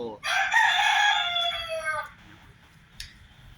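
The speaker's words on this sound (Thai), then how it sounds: "ไก่ดำมองโกครับ เป็นผสมไก่ดำมองโก" A rooster from a black Mongolian chicken cross crows once, loud and close, a long harmonic call lasting nearly two seconds, followed by faint clucking and low background chatter.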